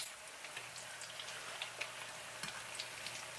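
Tostones, slices of fried plantain, sizzle in a pan of hot oil, a steady faint crackle with tiny irregular pops running throughout.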